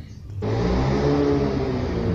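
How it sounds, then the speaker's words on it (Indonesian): A nearby motorcycle engine suddenly starts up and holds a steady loud droning idle with a rough rumble while warming up, filling the space after a brief quiet moment. "suaranya agak berisik, tetangga lagi manasin motor"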